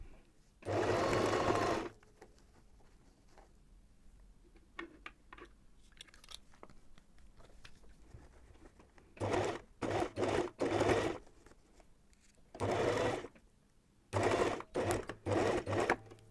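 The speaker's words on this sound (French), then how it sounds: "on se retrouve maintenant à la machine pour coudre donc sur la ligne que nous avons tracée" A sewing machine stitches a fabric seam on a drawn line in several short bursts of rapid whirring, close and clear, separated by quiet handling between runs.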